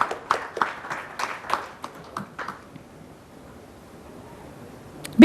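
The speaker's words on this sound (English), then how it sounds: "Big round of applause, friends" An audience at a galvanizing conference claps for a memento presentation, a modest burst of scattered hand claps that thins out and fades to quiet room tone after about three seconds.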